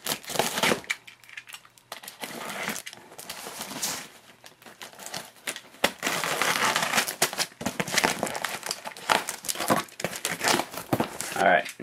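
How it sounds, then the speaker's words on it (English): A cardboard shipping box being cut and pulled open, with crinkling, tearing and crunching bursts of rough noise that come and go in irregular clusters near at hand for the whole stretch. "I'm gonna find a good place to cut this box open without jeopardizing the merchandise inside"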